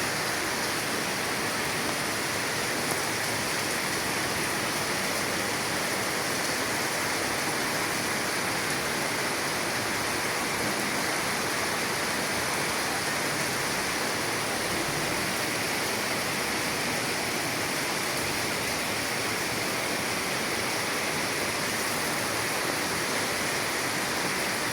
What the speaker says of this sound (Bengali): অনেক সুন্দর বৃষ্টি নেমেছে